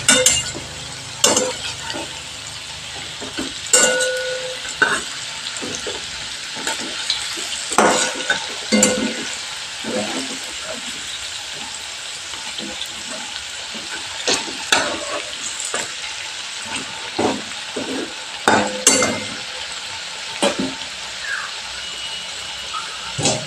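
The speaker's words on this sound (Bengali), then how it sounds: "এবার পুলিগুলোকে আমি উল্টো পাল্টে ভালো করে ভেজে নেব।" Carrot puli pitha, stuffed dumplings, sizzle steadily in hot oil as they are flipped and turned in a pan, with repeated clinks and scrapes from the utensil over the continuous frying hiss.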